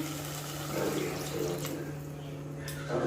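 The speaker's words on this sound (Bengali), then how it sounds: "এরপর জল ঢেলে দেবো" Water poured from a vessel into a pan of curry with fenugreek leaves in a home kitchen, a steady close splashing stream lasting the whole moment with a low hum beneath.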